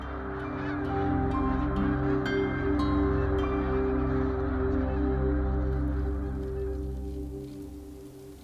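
A large flock of migrating snow geese honks in a dense, continuous chorus of overlapping calls, loud and close, swelling and then fading slightly toward the end.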